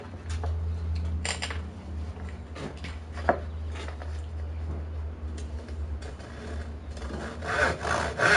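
Hand saw cutting through a piece of wood being shaped into a trophy, rough rasping strokes in an uneven rhythm, close and fairly loud, with a brief knock partway through.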